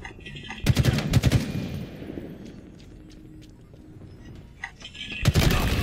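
Loud automatic gunfire from the video game Halo Infinite erupts in dense bursts at the start and again at the end, with quieter in-game ambience and scattered distant shots between.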